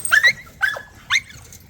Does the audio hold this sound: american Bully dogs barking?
yes